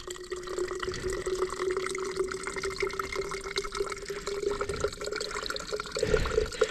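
Fresh water running steadily from a fountain into a bottle outdoors in Val di Fassa, Italy, a continuous close trickle and splash with a rising fill tone, gurgling more at the end.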